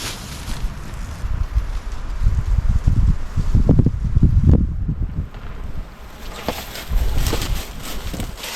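Gusty wind buffeting a camping tarp outdoors, a low roaring rush that swells and fades, with flapping fabric in the strongest gusts and no talking.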